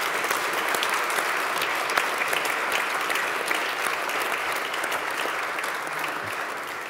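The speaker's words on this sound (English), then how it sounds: "asking for a big hand of applause for our speakers." An audience at an Arctic dispute settlement panel gives the speakers a sustained round of applause, dense and even throughout, without voices, tapering slightly at the end.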